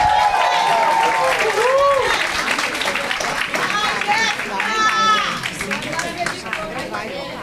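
An audience at a seminar on LGBTQIA+ public policy applauds and cheers, with whoops and shouts over clapping and chatter, fading somewhat toward the end.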